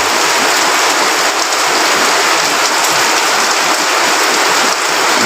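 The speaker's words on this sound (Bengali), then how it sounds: "খুব জোরে বৃষ্টি পড়তেছে এখন।" Heavy rain pours steadily at night in Fatikchhari, a dense, continuous close-up hiss of downpour with water running off nearby, loud and unbroken for the whole stretch with no voices.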